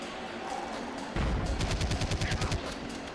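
Rapid automatic gunfire in the arcade shooter House of the Dead: Overkill, fired at a creature's claws, a loud rattling burst of about a dozen quick shots that starts abruptly and runs for roughly two seconds.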